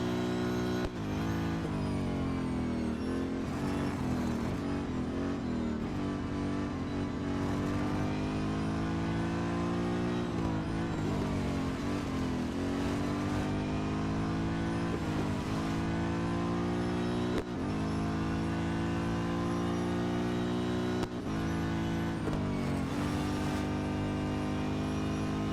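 Race car engines in the mobile racing game Real Racing 3, a loud continuous multi-car engine roar with rising and falling revs and gear shifts throughout, no voices.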